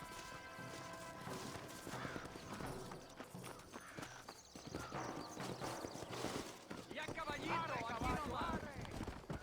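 Horse hooves galloping in the video game Red Dead Redemption, a rhythmic clip-clop under louder voices, music and other game sounds.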